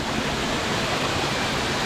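Steady, full-band roar of a Hawaiian waterfall heard from the top of the falls on a solo hike toward a crater, loud and unbroken with no voices.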